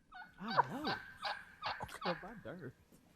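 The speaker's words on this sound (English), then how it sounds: "Why does that turkey sound like a damn goose?" A turkey call with a honking, goose-like tone repeats in several short bursts, close and fairly loud, with a voice heard around it.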